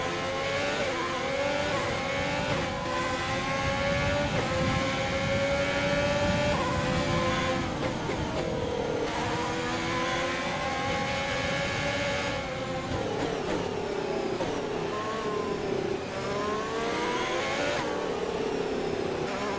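A Mercedes racing car engine in a racing video game screams steadily at full throttle, its high whining pitch rising and dropping through gear changes. It stays loud and constant for the whole stretch, with no voices.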